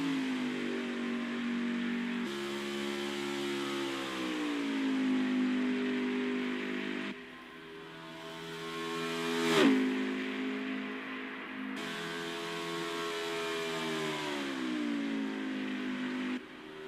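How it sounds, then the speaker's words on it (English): Race cars pulling off pit road and building speed at Michigan International Speedway, engines droning and rising in pitch through gear changes, one car sweeping close past in a loud swell before the steady roar resumes. "We got guys coming off pit road, getting back up to speed."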